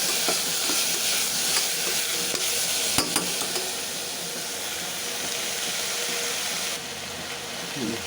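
Tomatoes sautéing in a pan give a steady, loud broadband sizzle with scraping stir sounds and one sharp clatter near the middle, continuing without speech.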